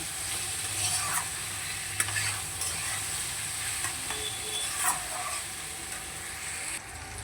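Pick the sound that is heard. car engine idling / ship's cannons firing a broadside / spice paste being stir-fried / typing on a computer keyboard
spice paste being stir-fried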